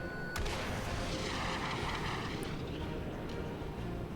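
A Cold War jet fighter in War Thunder launches a missile: a sharp crack, then a broad roaring whoosh over steady engine drone, with a second faint snap later, all fairly quiet and distant.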